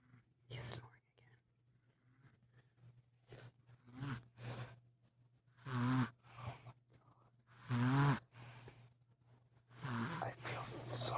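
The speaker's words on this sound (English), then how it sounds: "He's snoring" A three-month-old baby snores softly in repeated short, breathy snorts spaced a second or two apart, with a steady low hum underneath and quiet whispering voices nearby.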